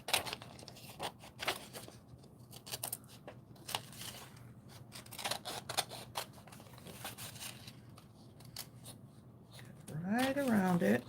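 Scissors snip through paper ephemera for a craft journal in a run of close, crisp cuts with brief pauses, and some rustling of paper between the cuts. A voice speaks briefly near the end.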